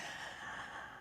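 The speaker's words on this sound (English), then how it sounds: "I'm now breathing deeply." A person sitting in a chair in a bedroom takes one long, deep, airy breath, heard close and steady before it fades at the end.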